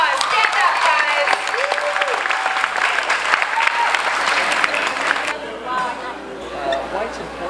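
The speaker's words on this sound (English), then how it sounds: "Give them a round of applause." Crowd applause for a New York baseball team at a Citi Field kids' event, dense steady clapping through most of the clip with cheers and chatter mixed in, thinning toward the end.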